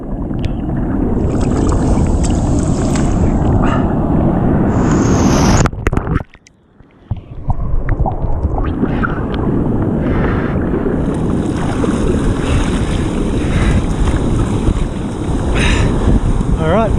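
A fishing kayak works through surf in a two-metre swell near a shallow shore break, with loud continuous wash of waves and wind buffeting, one brief lull, then rushing water again.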